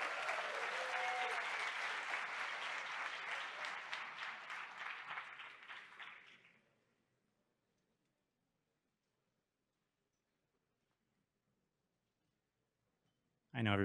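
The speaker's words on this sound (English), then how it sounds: "Please give a big round of applause for all 12 of our finalists one more time." An audience at the ETHBogotá 2022 hackathon closing ceremony claps for the twelve finalists. The dense, sustained applause lasts about six seconds, thins out and stops, leaving near silence before a brief loud sound at the very end.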